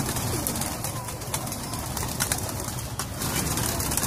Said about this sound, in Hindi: ये देखें यार कबूतर फिर रहे हैं।